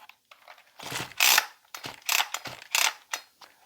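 Recoil starter on a Ryobi RY3714 chainsaw yanked several times in a row, each stiff pull giving a close ratcheting, whirring rasp with short pauses between, and no engine catching.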